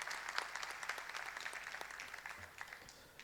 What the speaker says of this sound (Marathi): सरांचं पुन्हा एकदा टाळ्या वाजवून स्वागत करायचं आहे